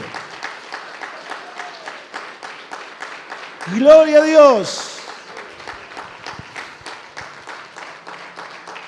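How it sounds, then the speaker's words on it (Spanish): Church congregation applause continues as steady rhythmic clapping under a preacher's voice, with a loud sung or shouted exclamation rising briefly over the clapping midway. "Bien fuerte ese aplauso al que vive"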